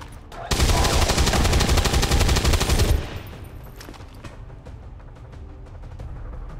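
Gunfire in the tactical strategy game XCOM 2, a loud, rapid automatic burst lasting about two and a half seconds that cuts off abruptly into quieter rumbling background with scattered faint clicks.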